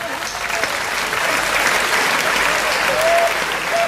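Audience at a Hindi kavi sammelan poetry recital applauding steadily, a dense wash of clapping from a crowd that holds at a constant level throughout.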